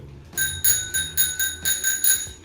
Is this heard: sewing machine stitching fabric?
no